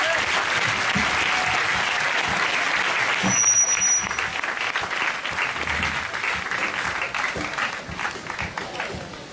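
A church congregation applauds loudly, the clapping dense and sustained near the start, then easing somewhat while still going at the end, with a brief high tone partway through.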